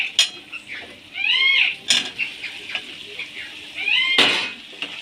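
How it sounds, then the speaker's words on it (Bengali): Fried potatoes tipped into a pan for aloo posto, several clattering scrapes and metallic knocks of utensils against the pan over a light sizzle. "এবার আমি ভেজে রাখা আলুগুলো দিয়ে দেবো"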